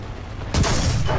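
A tank cannon in a video game goes off with a single sudden, loud blast halfway through, following a quieter rumble and ringing on afterward.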